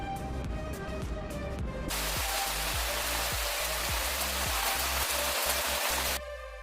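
Steady autumn rain pours down in a dense, loud hiss that fills the scene, with a faint rhythmic low thumping beneath it and a sharp cut at both ends.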